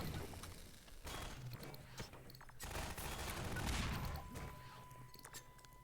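Gunfire in the video game Half-Life 2, a run of loud shots and bursts with rattling, shattering impacts spread across several seconds, with a steady tone entering near the end.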